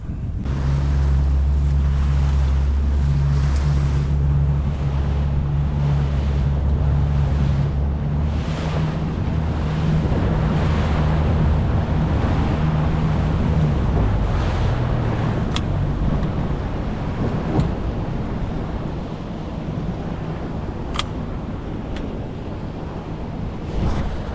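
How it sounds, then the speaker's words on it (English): A boat engine drones low and steady with water washing against the hull and wind buffeting the microphone; the engine note shifts partway through as the boat is put in reverse to stop. "you're going to see and hear that I'm going to put the boat in reverse, stop the boat"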